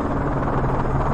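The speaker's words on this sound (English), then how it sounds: "Enemy chopper closing on your position." Enemy helicopter approaching in the Call of Duty Modern Warfare 3 final mission, a steady loud rotor drone and buzz filling the whole moment with no break.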